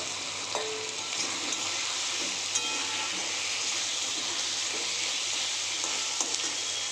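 Potato pieces sizzling in a pan of spiced oil for katla kalia, a loud, steady hiss and crackle with occasional stirring clinks, close up and continuous.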